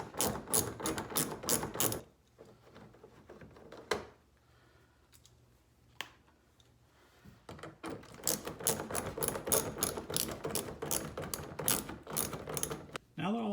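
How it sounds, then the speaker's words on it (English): A ratchet loosens three screws on a 2016 Jeep Cherokee headlight with an 8mm socket. Loud, rapid pawl clicking comes in close bursts, with a quieter pause in the middle before the clicking resumes. "So now I have my ratchet and I'm going to start loosening these 3 screws."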